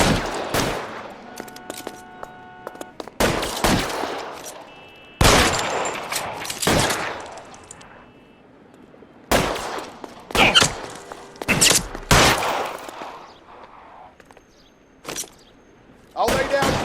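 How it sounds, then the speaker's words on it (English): Gunfire in an L.A. Noire shootout, with repeated loud sharp shots and short bursts spaced irregularly across the scene among quieter gaps, joined by brief voices. "I'll lay down some suppression fire."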